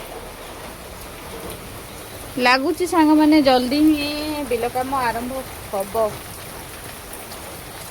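Heavy rain falls outside a house at night during a power cut, a constant soft hiss in the background while someone speaks for a few seconds in the middle.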